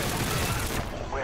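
A gun firing in a video game, a dense burst of rapid shots that fills the short moment and then trails off, loud and close.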